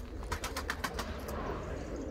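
Pigeons coo in a loft, a few soft rounded calls in quick succession near the start, then fading into low background rumble with no talk.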